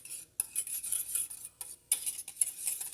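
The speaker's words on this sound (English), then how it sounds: "it's just a case of giving it a mix" A spoon stirs Italian herbs into pizza sauce in a bowl, giving close, quiet scraping and clinking strokes in short uneven bursts with brief pauses between.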